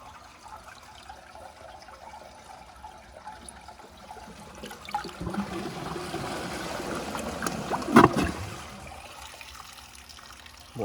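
A VitrA Evergreen toilet from 2012 flushes after its bowl is filled, the quiet trickle swelling into a louder rushing drain and gurgle before fading back to a faint refill.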